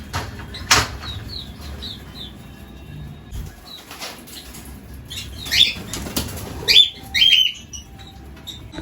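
Lovebirds in a colony flutter in to feed, with several sharp bursts of wing flapping close by, scattered chirps and tweets between them, and a quiet background.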